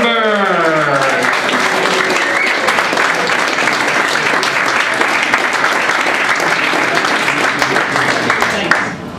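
Loud, sustained audience applause and cheering at a live comedy club show greets a comedian taking the stage, a dense wash of clapping that holds steady for about nine seconds after a brief announcer's voice at the start.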